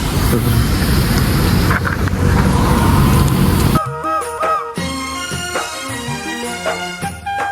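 Riding in an auto rickshaw on the way to the temple at Tuljapur: a loud, continuous engine and road rumble, then the ride gives way to brighter music with sharp notes.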